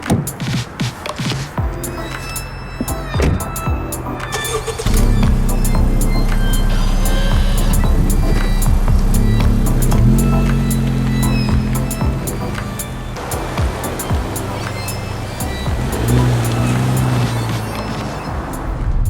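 A 2023 Honda Civic Type R on the move gives a steady, loud drone of engine and road noise with a deep humming tone that shifts and surges as it drives.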